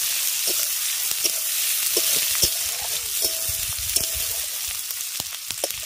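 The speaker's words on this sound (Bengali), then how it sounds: "পেঁয়াজটাকে আগে প্রথমে ভালো করে ভেজে নেব" Chopped onions fry in oil left over from fried fish, a steady close sizzle with regular scraping stirs of a spatula against the pan, strong and even throughout.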